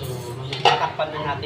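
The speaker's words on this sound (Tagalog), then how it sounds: "So, tatakpan na natin siya guys." A metal lid clanks down onto a cooking pot of simmering pork and pechay, a brief clinking knock with a smaller rattle after, close by against a steady kitchen hum.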